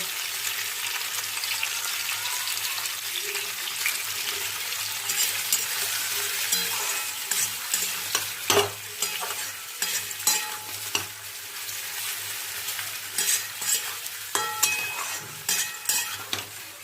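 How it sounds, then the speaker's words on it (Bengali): Gathi kochu (taro) pieces with salt sizzle steadily in a hot pan while being stirred, with frequent scraping and clacking strokes close by. "ভালো করে ভাজবো"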